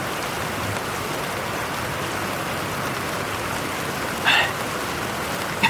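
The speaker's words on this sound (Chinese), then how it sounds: "下这么大雨，冻坏了吧？" Heavy rain pours in a steady, dense hiss, unbroken throughout, with a couple of faint brief knocks near the end.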